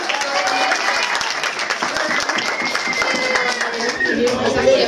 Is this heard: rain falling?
no